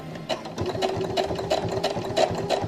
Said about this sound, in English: You can hear like a chunky stitch